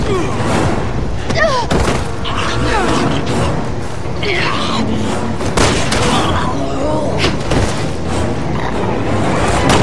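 Gunfire in the Resident Evil 6 demo as Leon Kennedy shoots at a zombie, a dense, loud barrage of shots and thuds running throughout under game voices and commotion.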